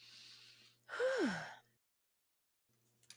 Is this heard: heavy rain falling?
no